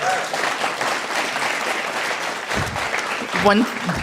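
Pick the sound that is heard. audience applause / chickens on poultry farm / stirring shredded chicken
audience applause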